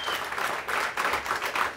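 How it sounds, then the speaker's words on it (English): Audience applause during an interview event, a brief burst of steady clapping from a crowd at moderate level, filling the short moment without talk. "that deserves applause"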